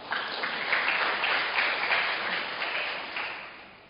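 A church congregation at a Sunday service applauds, a dense, steady wash of many hands clapping together that fills the room, sustained throughout and slowly tapering at the end.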